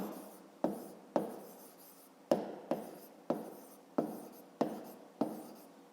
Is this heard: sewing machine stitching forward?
no